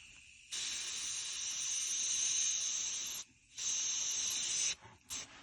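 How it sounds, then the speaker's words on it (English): Airbrush spraying paint onto a silicone baby doll: a steady close airy hiss in long bursts, pausing briefly and restarting, with a short final puff and no talking. "You don't really have to do it with the airbrush."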